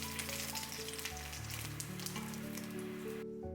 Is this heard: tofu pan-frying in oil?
yes